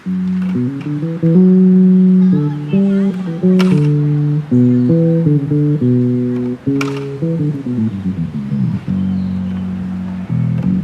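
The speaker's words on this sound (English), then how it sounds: "In this case, this is an electric bass." An electric bass plays a steady, bouncy line of distinct low notes, loud and clear, with no voices.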